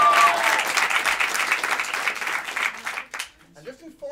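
An audience at an English-language improv show in Paris breaks into dense, sustained applause that fades after about three seconds, leaving quiet room tone and a brief stray sound.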